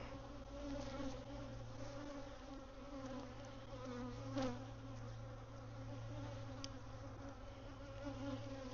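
Honeybees buzz around an opened hive frame during a swarm check, a dense continuous drone close by with individual bees passing near, steady in level throughout.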